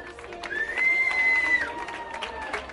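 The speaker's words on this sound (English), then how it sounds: "Hey, round of applause for everybody." An audience at a fashion show at Trader Ed's in Hyannis, Cape Cod claps and cheers at moderate loudness for about three seconds, with a sustained whistle-like tone rising above the crowd noise midway through.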